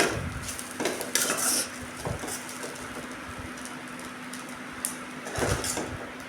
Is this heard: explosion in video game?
no